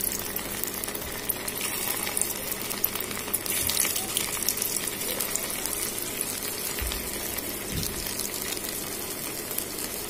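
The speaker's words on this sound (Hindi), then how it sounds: "चलिए अपनी बॉल्स को हम इसी में डाल देते हैं और फ्राई कर लेते हैं।" Spinach kabab balls with paneer stuffing sizzle in hot oil, a steady dense crackling hiss that carries evenly throughout with no talk.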